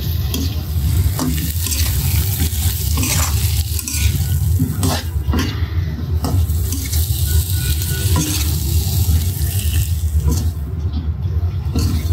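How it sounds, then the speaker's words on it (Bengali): Eggplant stir-fries with fish and spice paste in a pan, a loud, dense close sizzle with repeated scraping and clattering from the spatula over a low rumbling background. "বেগুনটা কষিয়ে নেব মাছের সাথে, মশলার সাথে।"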